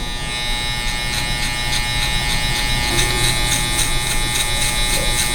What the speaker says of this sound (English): Gamma Shorty clippers. I really like them. They cut through anything.